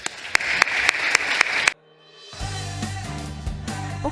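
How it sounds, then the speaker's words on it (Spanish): Audience applause at a book presentation during a literary festival: sharp, fairly loud clapping for under two seconds that cuts off abruptly, followed by unrelated music. "te damos las gracias de la forma en que lo hacemos en la Semana Negra, con un aplauso"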